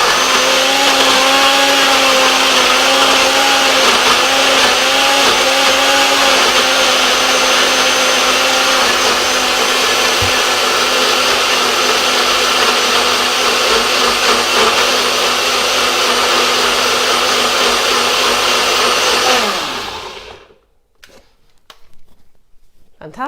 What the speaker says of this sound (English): So that's all those ingredients into the blender.